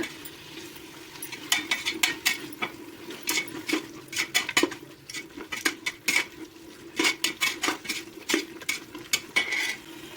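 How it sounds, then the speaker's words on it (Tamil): Vegetable biryani mix with coriander and mint being stirred in a 12-litre pressure cooker: a spoon scrapes and clinks against the metal in repeated, irregular strokes, with a faint sizzle beneath. "எல்லாம் சேர்த்ததுக்கு அப்புறம் ஒரு நிமிஷம் நல்லா கலந்து விட்டுக்கோங்க"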